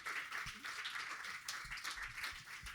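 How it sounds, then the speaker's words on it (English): A small live audience at an evening talk gives a round of applause: loose, fairly quiet clapping with scattered sharper claps that carries on across the whole moment, with no speech. "Give a round of applause."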